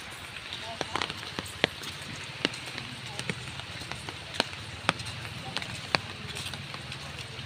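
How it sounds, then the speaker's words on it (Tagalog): Rain falls around Rizal Park in Dapitan, a steady soft hiss broken by sharp, scattered drips and taps striking a nearby surface, with faint voices in the background. "Ay, umulan. Umulan, bumagyo sa wakas"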